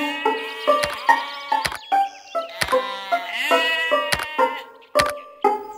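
A small sheep bleats in a rapid series of short, loud, quavering calls, about a dozen over several seconds, near and clear with no talk.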